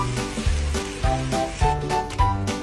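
Keto kimchi fried rice with sausage and cabbage rice stir-fried in a pan, sizzling under rhythmic scraping strokes of a utensil, four or five evenly spaced stirs, no talking.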